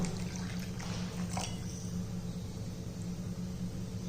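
Water poured into a thick pearl millet porridge mix to thin it, a soft, steady liquid wash close by over a low background hum, with no talking.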